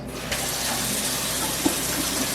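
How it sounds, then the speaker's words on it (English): Tap water runs steadily into a sink while a strawberry smoothie is being made, a continuous close hiss of flowing water that goes on throughout with no talking. "Put the water on first"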